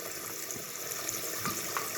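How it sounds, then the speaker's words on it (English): Water from a leaking toilet fill valve pours and sprays steadily out the top inside the tank, a continuous close hissing splash with faint clicks and no talking. "As you can see, water just pours out the top."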